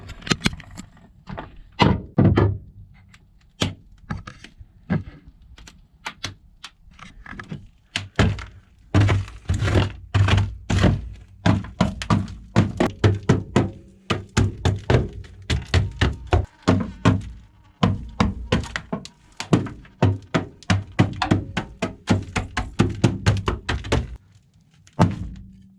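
Irregular cracks and thuds repeat for a long stretch as stiff, dry-ice-frozen sound deadening breaks and knocks off a Honda Civic floor, close by, with short pauses and no voices.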